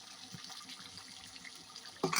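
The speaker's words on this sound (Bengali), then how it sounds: "এবার দিয়ে দিলাম একটু জল, দিয়ে ঢাকা দিয়ে দিলাম" Water poured into a pan of vegetarian curry, a soft low trickle running steadily, then a brief louder splash and rush of liquid at the end, with no talking.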